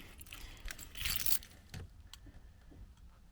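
Car keys jangle close by in a few quick metallic bursts, loudest around the middle, then a couple of softer clinks as they settle.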